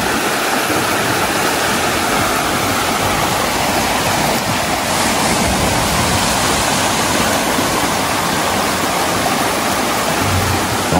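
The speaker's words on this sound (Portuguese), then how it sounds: "vou deixar vocês só com o barulhinho da água" Rushing water pours steadily at a water wheel beside a river on a rural property with woodland, a dense broadband roar that stays loud and even throughout with no talking.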